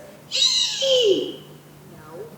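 On a fringe festival stage, a short, shrill screech followed by a lower sliding squeal, a voice imitating a dragon at moderate volume, then a faint trailing growl.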